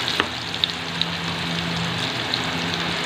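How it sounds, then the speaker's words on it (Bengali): Potatoes frying in a pan give a constant, moderate sizzle, dotted with a few sharp pops and crackles close by. "এই যে আলুটা দিয়ে দিলাম, তো আলুটা ভাজা ভাজা হোক।"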